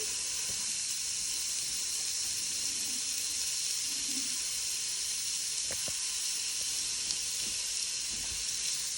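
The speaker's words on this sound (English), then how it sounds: "We're gonna add in our onions, and you do want them to sizzle" Continuous loud sizzling of onions frying in a pot, with a few faint clinks and scrapes underneath.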